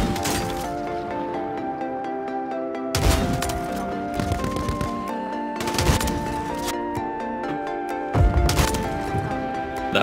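Sharp pistol shots in Warzone ring out in a few separate loud bursts, spaced seconds apart over a steady background hum and music.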